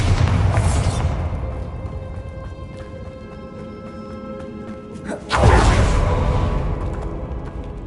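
A Bombarda spell blast in Hogwarts Legacy, a booming explosion with a rushing whoosh arriving about two-thirds through, after a sustained rumbling crash at the start.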